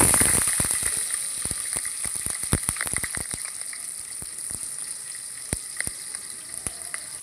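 Curry leaves crackle and sizzle in hot oil for a fish curry, a dense run of sharp pops and spits over a steady frying hiss, close and fairly loud, with no voices.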